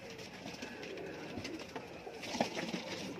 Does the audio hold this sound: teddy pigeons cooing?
yes